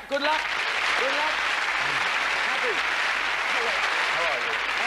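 Studio audience of a 1993 British TV game show claps steadily and loudly for about five seconds, with a host's voice and scattered calls heard over the applause.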